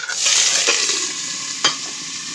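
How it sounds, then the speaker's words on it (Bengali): Vegetables, bitter gourd and potatoes are tipped into hot oil with bay leaves and garlic, giving a loud steady sizzle with a couple of sharp clatters as pieces land or are stirred. "আমি সবজিগুলো ভাত করলা আর আলুগুলো ঢেলে দেবো"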